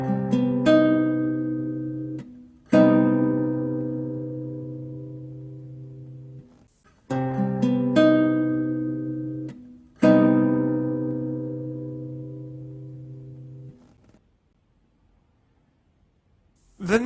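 A guitar minor-major seventh chord strummed or plucked four times in two pairs, each ringing out and slowly decaying, then silence at the end.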